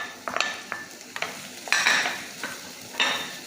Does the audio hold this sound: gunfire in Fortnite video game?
no